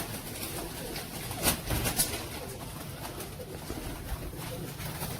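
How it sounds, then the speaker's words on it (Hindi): Pigeons in a loft cooing softly in the background, low and fairly faint amid ambient noise, with someone speaking briefly over them. "ये सब के सब देखो मोमी मोरो के कबूतर हैं"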